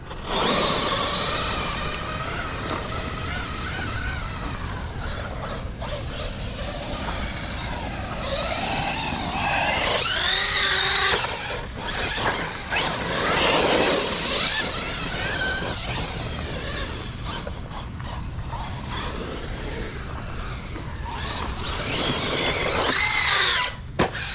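The small high-revving electric motor of a Redcat Racing Valkyrie 4S RC monster truck whines and buzzes continuously, rising and falling in pitch as it speeds up and slows, loud and close throughout.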